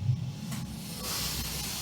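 Pressurized nitrogen hisses out of the bypass valve on a giant fighting robot: a steady, fairly quiet spraying hiss that swells in the second half and continues without voices.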